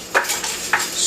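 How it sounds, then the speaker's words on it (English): A whisk beats a coconut limber mixture in a bowl, giving two quick, close scraping clicks over a soft, airy background. "you're gonna whisk it up just like so"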